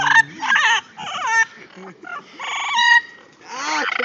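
A parrot riding along on a bike lets out a rapid series of loud, harsh squawks and honking calls in close succession, with excited human voices mixed in.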